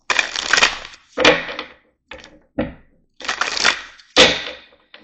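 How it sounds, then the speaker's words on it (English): Tarot cards being shuffled by hand in several short, crisp, rattling bursts, close and loud, separated by brief silences. "So I'm going to do a couple shuffles."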